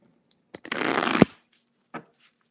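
Tarot cards being shuffled in a quick riffle that builds into a dense, loud burst of about half a second, ending in a sharp snap, followed by a single short card tap.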